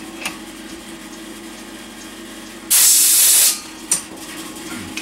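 A pressurized air hose lets out one loud, sharp hiss of air lasting under a second, close and strong, then cuts off and leaves a low steady hum and a few faint clicks.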